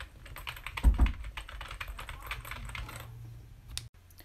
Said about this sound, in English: This is probably one of my best sounding keyboards